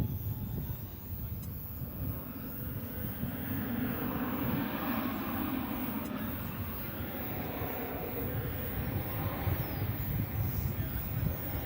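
American Airlines passenger jet taking off from runway 18 Left at DFW Airport, bound for Phoenix, heard as a steady, broad engine roar at moderate distance, continuous and unbroken throughout.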